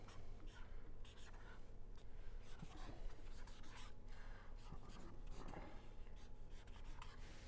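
Handwriting with a pen or marker on a board during a presentation gives soft, continuous scratchy strokes at low level, with brief pauses between words.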